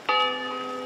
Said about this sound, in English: holding candles as bells rang out at 7 p.m.